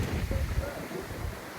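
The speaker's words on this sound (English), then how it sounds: "It's very, very windy up here" Strong wind buffets the microphone on a windy high point during a Koenigsegg tour in Portugal, giving a low, roaring rumble that is loud and continuous.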